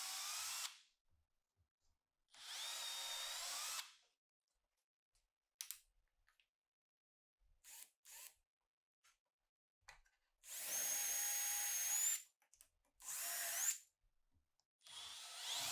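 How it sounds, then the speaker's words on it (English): Power drill boring holes in wooden shelf parts through a simple drilling guide, in five loud, close bursts of a few seconds each separated by quiet pauses and faint handling sounds. "so now I'm going to drill the parts"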